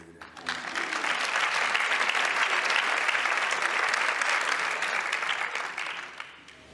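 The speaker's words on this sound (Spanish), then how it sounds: "sí, podemos aplaudir." An audience at a poetry event bursts into sustained applause, a dense wash of many hands clapping that swells quickly, holds steady for several seconds, then tapers off.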